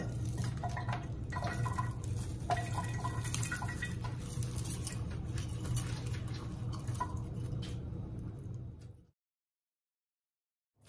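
Water trickles and drips steadily as the roots of a Norfolk Island pine are soaked for a fairy rock garden, faint and close, then cuts off abruptly near the end.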